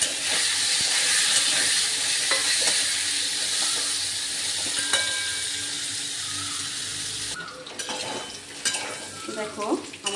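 Cut potatoes fry in oil with a loud, dense sizzle and steady hiss close by, easing slightly partway through as stirring clatters come in near the end.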